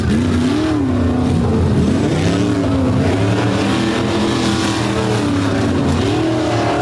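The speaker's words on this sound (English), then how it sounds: "Smooth runs for both of these guys as Scott Martin trying to make sure his machine will stay underneath of him for the weekend" Drag race cars at Bloomsburg make a run, their engines roaring loud and steady with rising and falling pitch sweeps as they accelerate down the strip, filling the whole stretch without pause.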